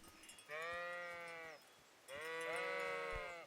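Two long, wavering sheep bleats in the video game Kingdom Come: Deliverance, close by, each about a second long, separated by a short pause over faint background noise.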